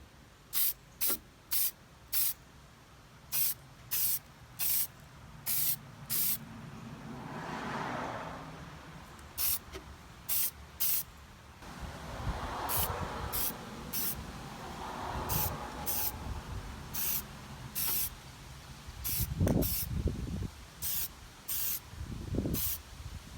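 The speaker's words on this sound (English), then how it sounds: "with the orange first, I'm going to tilt the can so it's facing backwards" A rattle can of spray paint sprays an RC car body in orange, yellow and white for a custom fade, in a series of short regular bursts of hissing followed by longer sustained sprays, fairly close and alone.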